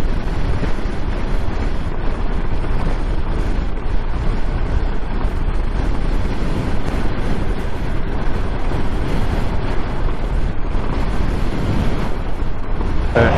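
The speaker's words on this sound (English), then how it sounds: "this is the test of the wind. It's a lot of crosswind too" Heavy crosswind roars over the microphone while riding a KTM 390 motorcycle at about 50 with a stock windscreen, a constant loud rushing buffet that never lets up, with no talk.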